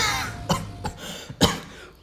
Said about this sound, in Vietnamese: Mấy hôm nay ho quá anh em ạ